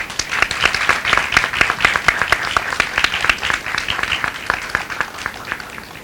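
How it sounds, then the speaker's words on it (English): An audience at a session honouring actor Smita Patil gives a big round of applause, with loud, close, continuous clapping for six seconds and little else beneath it. "Can we please have a big round of applause?"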